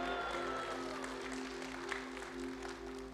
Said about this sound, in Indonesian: Siapa suruh tepuk tangan lagi?